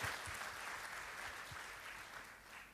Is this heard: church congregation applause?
yes